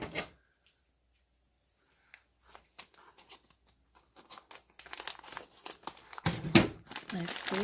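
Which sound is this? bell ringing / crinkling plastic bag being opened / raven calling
crinkling plastic bag being opened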